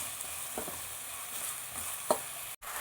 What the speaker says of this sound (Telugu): ఇప్పుడు 2 చాప్డ్ ఆనియన్, దీన్ని చక్కగా వేయించుకుందాం.